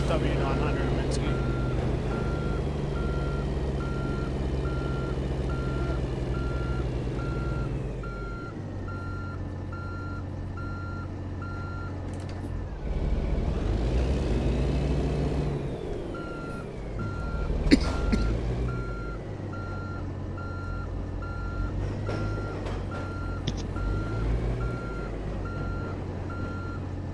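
Reversing beeps from a W900 truck in a truck-driving video game, a steady, evenly spaced electronic tone repeating through most of the stretch over a low engine drone, with a pause midway and a voice talking now and then.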